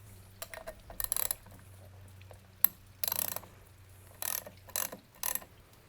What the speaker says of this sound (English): we're going to torque that down to 6 foot-pounds